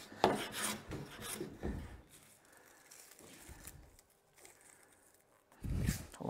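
A steel plane blade is rubbed back and forth on sandpaper over a flat plate in the Scary Sharp sharpening system, giving close, rasping strokes in uneven bursts with quieter gaps between them and no talk.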